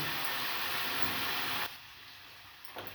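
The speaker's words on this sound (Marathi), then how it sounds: "हे सगळे मसाले मी आता तेलात फ्राय करून घेते आहे" Spices frying in hot oil for a home-style mushroom curry give a loud, dense sizzle that runs steadily for over a second and a half, then drops abruptly to a faint residual hiss.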